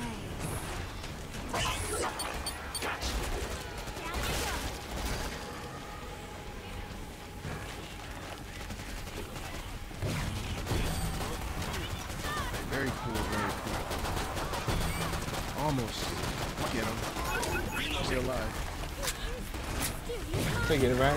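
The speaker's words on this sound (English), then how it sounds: "Shooting him in the back." Dense, continuous bursts of gunfire from the video game Killing Floor 2 fill the whole stretch, loud and busy, with players talking over the shooting.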